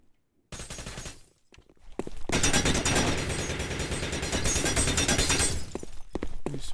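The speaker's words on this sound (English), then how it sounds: "Loose pre-firing." Sustained, dense gunfire from a tactical shooter match in a Summer Skirmish 2025 game between DuctTales and KOBA, heard as rapid repeated shots with a brief lull before a loud continuous burst that carries on to the end.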